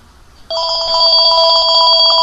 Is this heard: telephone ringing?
yes